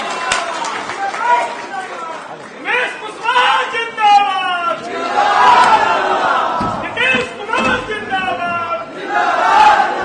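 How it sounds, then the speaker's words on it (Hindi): Crowd applause and cheering at a party office event in Patna welcoming the state party president, rising and falling in swells of clapping and shouts, with a loud voice over the crowd. "जोरदार तालियों से इनका स्वागत करें।"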